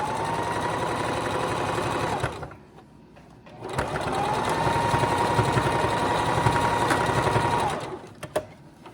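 A sewing machine runs a zigzag stitch on fabric for a shorts jumpsuit, humming in a steady close whir, stopping briefly, then stitching again at length before halting.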